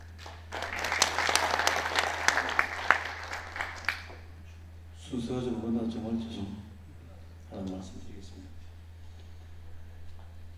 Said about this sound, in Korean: 여러분 박수로 한번 청해 볼까요?